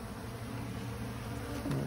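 A low, steady hum of many honeybees buzzing close by in a box, quiet and constant, with one bee droning a little louder near the end.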